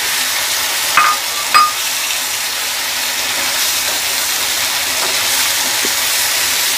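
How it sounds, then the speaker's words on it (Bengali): Taki fish sizzles steadily in a pan of fried, slightly charred spice paste, a constant bright hiss with two sharp clinks of a utensil against the pan near the start. "টাকি মাছগুলো এখন আমি দিয়ে দিলাম"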